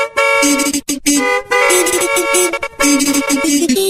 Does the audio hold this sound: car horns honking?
yes